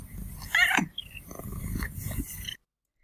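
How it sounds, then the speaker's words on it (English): A pet cat makes squeaky meows layered over a low purr, close by and fairly quiet, with a brief higher chirp early on, then a rumbling stretch before silence. "Donna, who's purring and meowing, in this case, squeaking at the same time."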